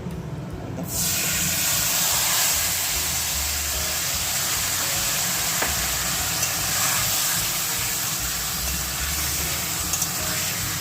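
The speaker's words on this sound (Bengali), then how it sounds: "এবার আমি এর মধ্যে মাটনটা ঢেলে দেব। ম্যারিনেট করা রয়েছে সব মশলা দিয়ে একদম" Mutton marinated in spices, poured into a hot pan, sizzles loudly and steadily, a dense broadband hiss starting abruptly after a brief moment and holding on without pause.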